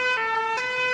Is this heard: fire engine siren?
yes